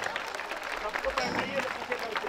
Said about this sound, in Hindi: आप लोग ताली बजते रहना चाहिए जब स्वागत करते हैं कैमरा वाले भाई